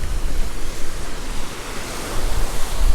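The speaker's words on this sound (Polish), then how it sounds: "Strasznie wieje, ale przyjemnie." Strong wind blowing across a cliff top above a beach, a loud continuous buffeting rush that hits the microphone with low gusty rumbles, steady for the whole moment with no voices.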